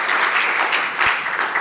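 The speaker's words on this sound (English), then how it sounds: "So a round of applause for TPF." A conference audience applauds at a summit closing session, a steady burst of clapping lasting under two seconds.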